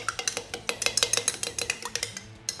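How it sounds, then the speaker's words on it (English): A small whisk or spoon stirs a vinaigrette of red wine vinegar, salt flakes and cracked black pepper, clinking quickly and repeatedly against a bowl in a steady, close rhythm, with no talking. "Stir this up"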